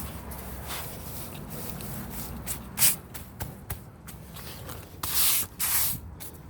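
Water spray rinsing sand around garden stepping stones, a steady close hiss with louder bursts and brief shuffling underneath.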